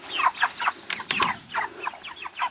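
Chickens in a PVC chicken tractor cluck in quick bursts close by, a busy run of short calls with a few sharper squawks mixed in.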